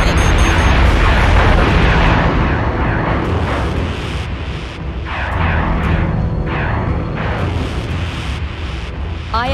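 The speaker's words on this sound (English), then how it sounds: "Missiles incoming!" Heavy rumbling blasts of incoming missiles detonating in a Battlestar Galactica: Deadlock space battle, a loud continuous roar of overlapping explosions with sharper bursts breaking through over nearly ten seconds.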